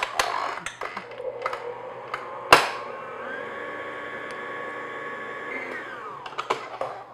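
An electric mixer on low speed beats chocolate mayonnaise cake batter with a steady, even motor whir that holds for several seconds, with faint clicks and one sharp knock near the start.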